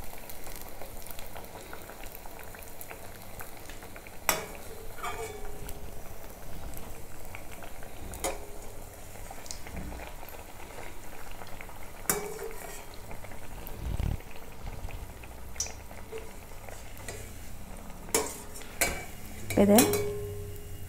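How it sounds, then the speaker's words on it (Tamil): Wheat appam frying in hot oil: a steady, soft sizzle and bubbling runs throughout, broken now and then by a clink or scrape of a utensil against the pan. "இப்போ கொஞ்சம் மேலெழும்பி வந்ததுக்கப்புறம் திருப்பி போடணும், அதிக நேரம் கரகரப்பாக பொறிக்கக்கூடாது"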